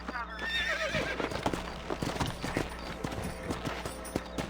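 Horse in the Red Dead Redemption video game whinnies near the start, then its hooves clip-clop in a steady rhythm close by for several seconds, with a faint voice underneath.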